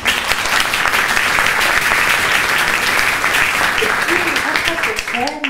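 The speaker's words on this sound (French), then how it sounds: "sous l'applaudissement du public bien entendu" An audience at an evening presentation claps loudly and steadily throughout, a full wash of applause with a voice briefly heard near the end.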